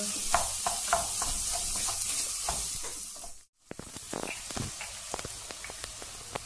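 Black pepper and chili flakes being stirred in a pan for cauliflower musakka, with soft sizzling under a run of light scraping strokes that stops briefly midway and then resumes.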